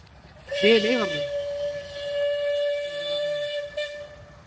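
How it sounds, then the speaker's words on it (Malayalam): A train's horn sounds as it approaches a closed railway crossing gate, a steady sustained tone with harmonics lasting several seconds, while a voice talks briefly over it. "നോക്കിയേ, ഇവിടെ ആണെങ്കിൽ ആ ട്രെയിൻ വരുന്നുണ്ട്."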